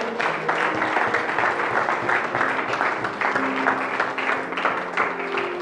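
Church congregation applauding during a French-language sermon, a sustained burst of clapping from many hands lasting several seconds, fairly loud and close.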